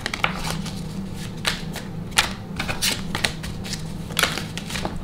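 Madhouse Tarot cards shuffled by hand, giving crisp irregular riffling clicks and snaps over a steady low hum, close and moderately quiet.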